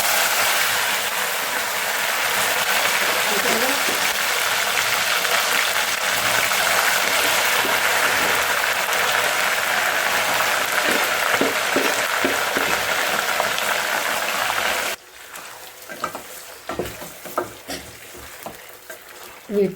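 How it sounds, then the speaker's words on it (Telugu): Prawns frying in hot oil in a kadai, a loud steady sizzle for about fifteen seconds that then drops away to faint crackles and a few scattered clicks. "వీటిని ఇప్పుడు బాగా ఫ్రై చేసుకోవాలన్నమాట."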